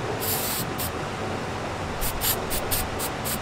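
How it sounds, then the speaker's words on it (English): Spray adhesive hisses from an aerosol can onto the back of Velcro during a seat repair, one short burst followed by a string of quick sprays, close and fairly loud over a low background rumble. "literally just spray glue in the channel and on the backside of the Velcro"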